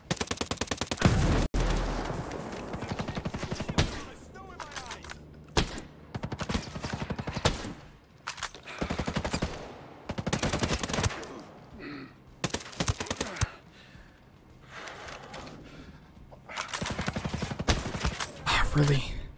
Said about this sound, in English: Here comes some mortars.